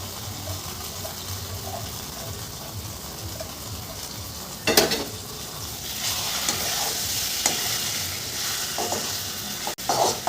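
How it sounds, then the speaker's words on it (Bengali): Chowmein noodles tipped into a pan of scorching masala and stirred, giving a steady close sizzle with scraping stir strokes and a sharp clatter midway and near the end. "আমি চাউমিনটা এখানে ঢেলে দিচ্ছি"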